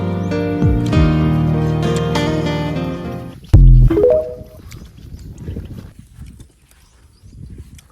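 A horse whinnies loudly with a long, quavering neigh, then breaks off. Quieter rustling and scattered shuffling sounds follow.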